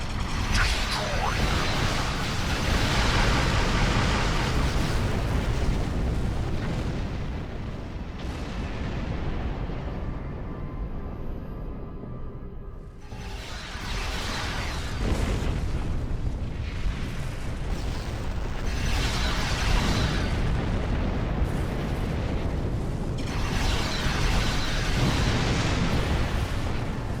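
Starship weapons fire and explosions in the space game Star Trek Online roar continuously as ships open fire, a dense, loud barrage of booming blasts that briefly dips partway through before surging again, with voices talking over the battle.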